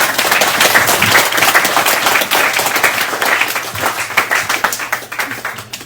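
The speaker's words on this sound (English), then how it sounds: "Can we get another round of applause for Steve?" An audience at an art show speech applauds loudly and steadily for about six seconds, dense clapping close and continuous with a few sharper claps near the end.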